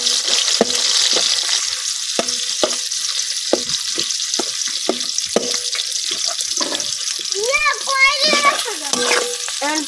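Onions sizzle steadily in a pot as beef biryani gets started, with sharp clatters of a spoon stirring and scraping throughout and some closer, higher clinks near the end.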